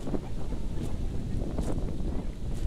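Strong wind buffets a campsite, a close, rough, continuous rushing with gusty thumps against the microphone.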